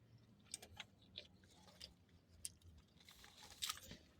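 Chewing on tacos and fries, with soft crunches and bites repeating irregularly through the clip, close to the mic and fairly quiet, with no talking.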